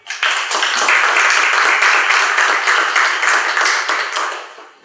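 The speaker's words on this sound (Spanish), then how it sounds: "Un aplauso," Applause breaks out for deputy Mari Carmen Cabrera Camacho at a forum on life and human dignity, a dense burst of many hands clapping close and loud. It fills the few seconds, then tapers at the end.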